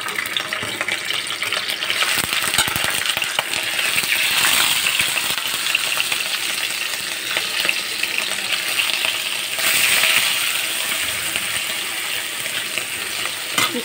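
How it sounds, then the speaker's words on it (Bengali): Fish frying in white cooking oil in a pan gives a continuous loud crackling sizzle with small spits and occasional clinks, heard close and without speech. "মাছগুলো একটু ভেজে নেব"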